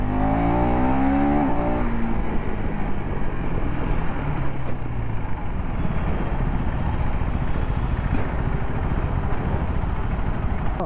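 2025 KTM 390 Adventure motorcycle being ridden, engine revving with rising and falling pitch at first, then steady loud wind and engine roar while cruising.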